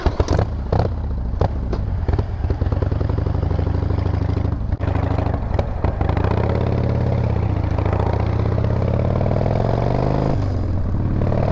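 A motorcycle engine runs in neutral, a steady loud idle with clattering mechanical tick and several sharp knocks early on, the rumble holding close and even throughout without talking.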